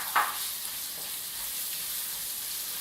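Red onions sizzling in a hot pan with coriander powder and chili flakes, a soft continuous hiss after a brief clink at the start.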